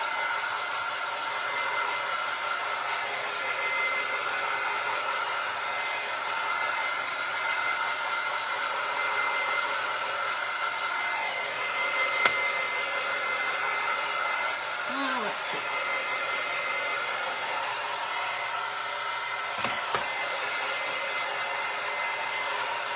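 A hair dryer blows steadily on wax coating a clipboard, giving a constant airy whoosh at moderate level that holds unbroken throughout, with a couple of faint knocks in the background.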